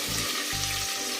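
Chopped onions frying in coconut oil in a pan for a Kerala-style vegetable kurma give off a steady, close hiss of sizzling, with a low background hum that comes and goes.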